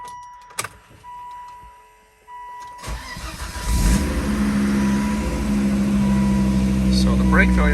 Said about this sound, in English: we'll start it up here and you can hear what it sounds like